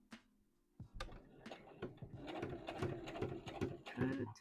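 A sewing machine stitches a seam on a McCall's M8141 dress, running in steady rapid bursts with brief pauses between them, close and moderately loud, with faint speech in the background.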